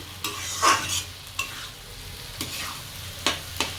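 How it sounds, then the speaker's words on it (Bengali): Soaked sago tossed with spices in a pan over a raised gas flame, a spatula scraping in a few distinct strokes over a soft background sizzle, close and fairly quiet. "এরপর এই সাবুটা মশলার সঙ্গে একটু ভালো করে নেড়ে চেড়ে নেবো"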